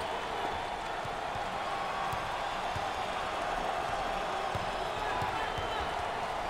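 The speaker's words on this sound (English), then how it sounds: "Listen to this crowd. Oh, there's all kinds of people standing and cheering and going wacky." Basketball arena crowd at a 2023 NCAA March Madness first-round game between USC and Michigan State roars in a steady, continuous wash of cheering, with no commentary over it.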